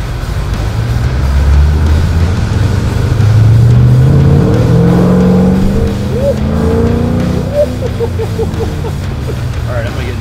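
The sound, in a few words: Harley-Davidson motorcycle engine revving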